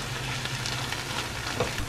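Cherry tomatoes with garlic and olive oil cooking in a pan over low heat give a steady, soft sizzle and gentle bubbling, fairly close, with no talk over it.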